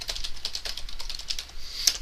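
Rapid typing on a computer keyboard while writing Java code, a steady run of close, light plastic key clicks with a brief pause before a final firmer keystroke.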